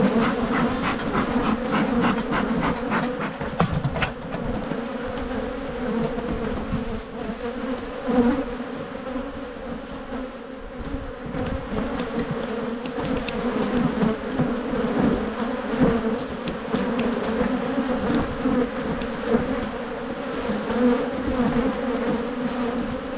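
Agitated honey bees swarm around an open hive, a dense, continuous, loud buzzing that stays steady throughout with no talk.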